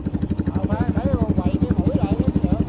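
A boat's engine chugs in a fast, even pulse close by, a clattering beat running steadily while a voice is faintly heard over it.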